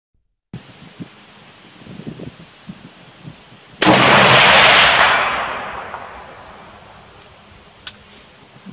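A single loud rifle shot from a SOCOM Mk 12 cracks out on an outdoor range, its long booming echo fading over about two seconds after a quiet stretch of faint handling noise.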